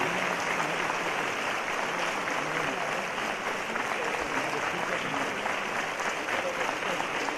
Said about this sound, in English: with a big, big round of applause